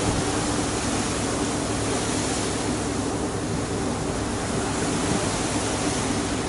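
Steady, broadband wash of sea water lapping against the base of an iceberg, continuous and even with no distinct breaks, under constant wind-like hiss.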